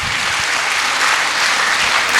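Loud, steady audience applause fills the hall at a speech event in Tatanagar, a dense crowd clapping continuously without pause.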